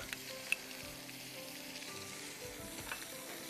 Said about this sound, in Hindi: प्याज और चॉप किया हुआ 3-4 जवे लहसुन के आप मीनवाइल यहाँ सॉटे करिए।